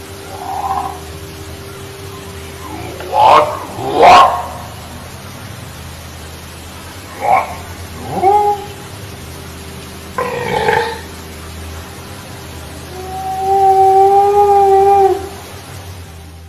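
Purported Sasquatch vocalizations from a 1983 recording: a few separate howl-like calls and guttural grunts spaced apart over steady hiss, ending in a longer sustained tonal howl.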